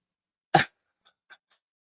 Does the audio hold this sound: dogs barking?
yes